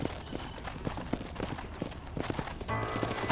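Horse hooves clip-clop steadily in Red Dead Redemption, a brisk, rhythmic patter of hoofbeats close by over low background game sound.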